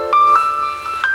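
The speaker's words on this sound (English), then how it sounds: "a nice ringtone, eh? It makes you want to have a nap." A phone ringtone plays a short, clear electronic melody of a few sustained tones, close and fairly loud, with no voices over it.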